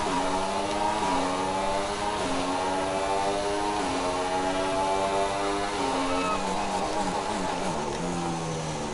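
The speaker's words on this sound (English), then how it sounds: "Lovely sound in the downshifts." In the F1 2016 video game, a Formula 1 car engine whines steadily, its pitch climbing and then dropping sharply again and again through repeated gear changes and downshifts, loud and continuous with no talking.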